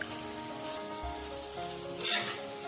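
Ground spices being stirred into liver in a hot tawa pan for tawa pota kaleji, a steady close sizzle with a soft scraping stir and a brief louder rush near the end.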